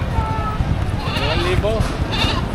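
A goat bleats in wavering calls amid a busy livestock auction in Padre Garcia, Batangas, with people talking and crowd noise around it.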